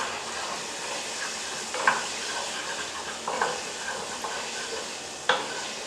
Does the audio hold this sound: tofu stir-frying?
yes